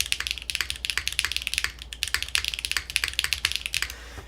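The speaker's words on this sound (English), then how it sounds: "A very good sounding keyboard." Brisk, clicky keystrokes on a Stratum-80 mechanical keyboard, typed in a steady run of fast bursts, close up and alone with no voices.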